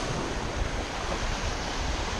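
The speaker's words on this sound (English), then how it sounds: "Really windy, sorry guys." Steady, roaring wind buffets the microphone on the shore by a jetty at Fort Clinch State Park, with a dense rumble that blends into surf noise throughout.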